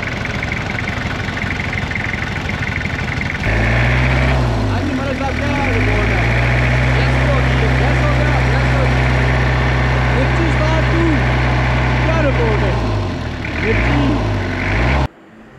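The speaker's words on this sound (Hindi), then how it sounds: "और आखिरकार गाड़ी स्टार्ट हो गई।" An off-road jeep that had been broken down, now repaired, cranks and catches, then settles into a loud, steady, throbbing idle that runs close by for over ten seconds before cutting off abruptly.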